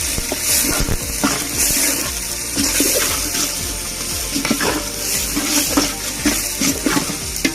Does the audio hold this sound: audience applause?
no